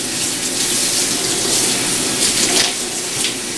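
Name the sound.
water rinsing dye out of hair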